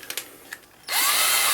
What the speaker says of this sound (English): So you just take a little power drill,